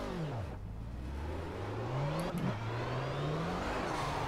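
A virtual race car in Project Cars, driven with paddle shifters, revs and shifts repeatedly, its engine pitch sweeping up and dropping back in steady, fairly quiet cycles with no talk.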